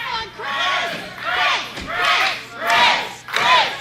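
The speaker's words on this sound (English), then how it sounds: "The crowd now trying to get behind Chris" Wrestling crowd at an OTW match, Chris Bohren vs. Brian Johnson, rallying behind Chris: rhythmic, swelling waves of chanting and shouting, roughly four pulses rising and falling in a steady cadence.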